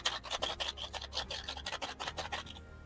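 Bolts tumble inside a small capsule as it is turned by hand during a beginner magic trick, making a quick run of about a dozen close, scratchy rattling clicks before stopping.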